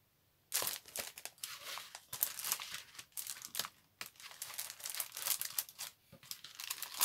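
A sheet of stickers being peeled off: close crinkling and tearing of plastic and paper in irregular bursts after a short quiet start, no talk.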